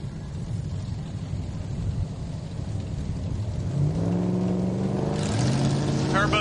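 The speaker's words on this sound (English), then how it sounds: "Turbocharged Mustang, left-hand lane spooling up." A turbocharged 1995 Ford Mustang drag car idles with a rough rumble at a Hot Rod Drag Week strip in Great Bend, Kansas, then rises into a rising whine and roar as it spools up, under an announcer's voice.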